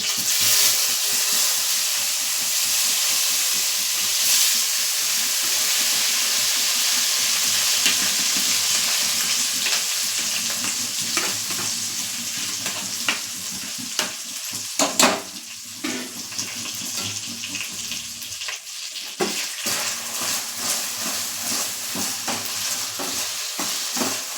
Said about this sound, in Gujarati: પછી આપણે ગેસ ધીમો કરી અને આમાં ચોખા એડ કરીશું